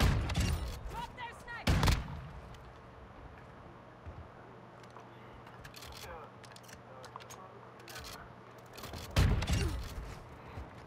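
Shotgun blasts from the Bryson 800 in Call of Duty: Modern Warfare II boom out in two heavy bursts, at the start and near the end, with a quieter shot in between, over low game ambience and clicks.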